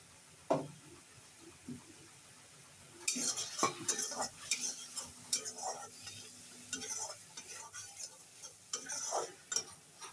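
Masala for a vegetarian potato curry is stirred and fried in a pan, a soft sizzle under repeated scraping and clinking of a spatula against metal, sparse at first and then busier.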